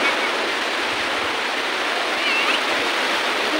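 Sea waves surge and wash steadily at Digha beach, where people wade into the breakers, forming a loud, continuous broadband roar with no pauses.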